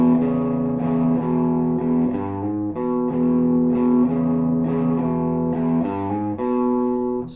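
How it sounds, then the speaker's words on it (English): A distorted electric guitar plays a repeating blues shuffle riff, steady and loud throughout with a swinging rhythm and no voices. "That's the basis of the shuffle riff if you haven't done blues before."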